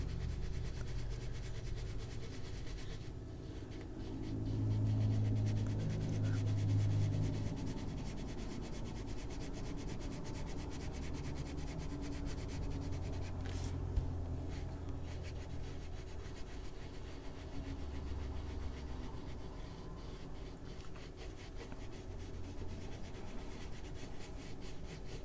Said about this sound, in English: We'll bring in our blending stick and lightly blend all this together down here.